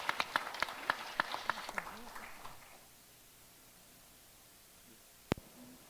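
Scattered claps from a small audience at a G20 Techsprint final event start distinctly, then thin out and fade into near silence within about three seconds, followed by a single sharp knock.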